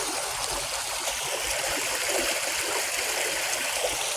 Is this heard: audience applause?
no